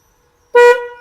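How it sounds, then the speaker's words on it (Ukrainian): Horn of an Elwinn EL10 electric tractor gives a single short, loud, close toot lasting about half a second, then dies away quickly. "звуковий сигнал"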